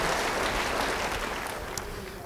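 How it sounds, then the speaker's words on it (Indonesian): Church congregation claps during a sermon, a dense, even wash of applause from a large room, loud at first and easing slightly, with no clear speech over it. "Beri tepuk tangan bagi dia."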